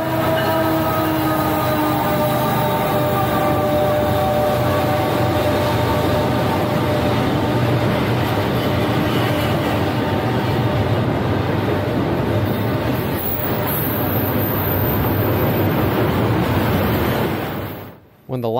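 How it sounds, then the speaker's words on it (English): A Union Pacific westbound intermodal freight train rumbles past at night at Elmhurst, a loud, steady roll of wagons on rails lasting throughout before cutting off abruptly at the end. "Shortly after, we would catch another westbound intermodal."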